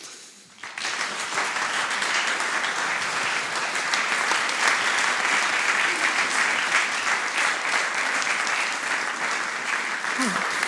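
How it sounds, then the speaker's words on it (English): A room full of guests in Bern bursts into sustained applause that starts abruptly and holds steady and loud for about ten seconds, close and dense throughout. "our guests deserve a big applause"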